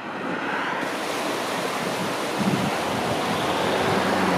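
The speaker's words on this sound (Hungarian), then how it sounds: "A Vág folyó, Liptószent Miklóson." The Váh river flows through Liptovský Mikuláš in Slovakia with a steady, full rushing wash of water. Close and continuous, it is joined by a little wind buffeting and has no voices.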